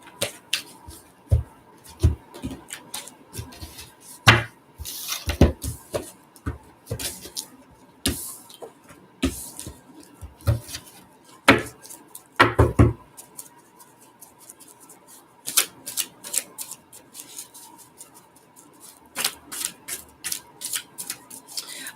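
Quick bursts of tarot card shuffling, papery riffles and soft taps in irregular clusters, close up with a faint steady hum behind.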